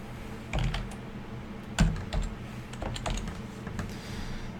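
Typing on a computer keyboard while entering codes in a sector map editor, irregular bursts of close, crisp key clicks with a few louder strokes, no voices.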